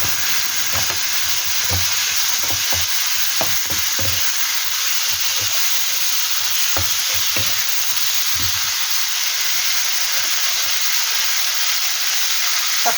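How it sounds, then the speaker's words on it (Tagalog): Tomatoes sautéing with garlic in a pan for a Filipino ginisang kamatis: a steady, close sizzle and hiss runs throughout, broken by occasional soft stirring knocks, with no talking. "Ilagay na natin yung ating kamatis."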